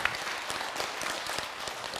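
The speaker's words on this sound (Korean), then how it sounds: "박수 많이 주세요." An audience at a Buddhist talk show applauds, steady moderate clapping with distinct individual claps audible through the crowd sound.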